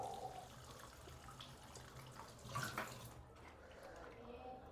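Pieces of chilapi (tilapia) fish being rinsed in water while preparing a fish fry, giving a steady splashing wash with a brief louder slosh midway, heard up close.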